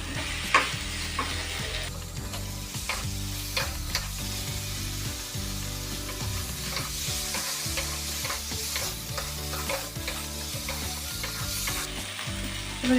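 Fried vegetables are stirred and sautéed in a pan for shukto, a Bengali dish, with a soft continuous sizzle, scraping stirring strokes and a low background hum, and no talking.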